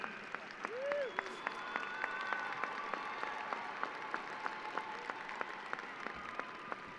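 A crowd applauds at a 2025 undergraduate commencement ceremony, sustained clapping from many hands filling the hall for several seconds, with a brief whoop or cheer early on and no speech over it.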